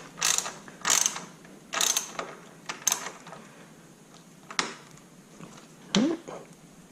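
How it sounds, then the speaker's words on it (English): Bolts being tightened on a case mount of a Honda CBR650F motorcycle, a series of short ratcheting bursts in a quiet space, several quick clicking runs then a couple of isolated turns. "tighten the bolt under here"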